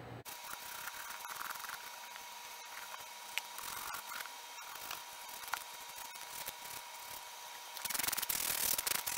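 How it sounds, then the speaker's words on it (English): Steady scratchy rasping of a nail file squaring up toenail edges, close and continuous, growing rougher near the end. "you're going to just use your file and just square up the edges."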